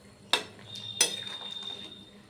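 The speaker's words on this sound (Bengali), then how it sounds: "একটু নাড়াচাড়া করে মিশিয়ে নিচ্ছি।" A utensil stirs shrimp in warm water in a cooking pan, producing two sharp metallic clinks followed by a soft ringing tone and faint scraping, quiet and close.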